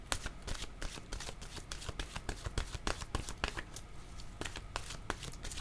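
Tarot cards shuffled and drawn from a deck at close range, with dense rapid riffling and slapping bursts running throughout, alone with no talk.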